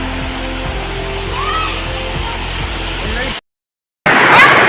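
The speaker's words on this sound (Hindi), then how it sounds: "राइट साइड कुरुडुझर वाटरफॉल अच्छी" Rushing water at Kurudkut waterfall in Deogarh roars as a steady, loud broadband wash with a low rumble underneath. The sound cuts out briefly near the end, then returns.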